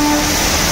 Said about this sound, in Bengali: এই ভালো করে দেখে নিন হামসাফার এক্সপ্রেস হাওড়া টু তিরুপতি